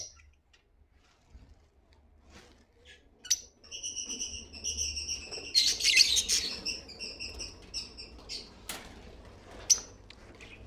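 Lovebirds kept in breeder cages chirp in quick bright bursts, a few isolated calls at first, then a dense overlapping flurry of shrill tweets in the middle before thinning out again.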